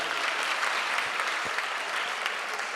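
Dense, sustained applause fills a hall as an audience claps for a bishop at a church gathering, steady and loud throughout with no speech.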